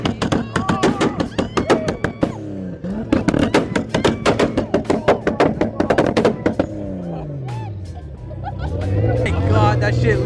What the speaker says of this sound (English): that might be the loudest two-step I've ever heard